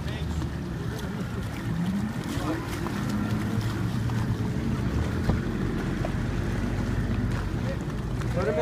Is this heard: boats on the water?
yes